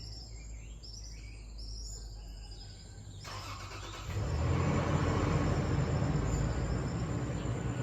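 An SUV rolls past outside a lodging in Bocas del Toro, Panama, its engine and tire noise swelling and holding steady after a stretch of distant jungle birdsong and insect chirps.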